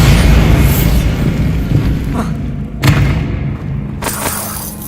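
A Bombarda blast spell goes off in Hogwarts Legacy, a loud booming rumble that fades, followed by two sharp bursts, with game sounds around it.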